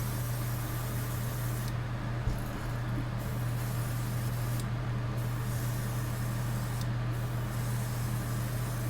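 Steady, hissing airbrush spray runs continuously with a low constant hum beneath it as paint coats a crankbait lure, the texture unchanged throughout with no talk.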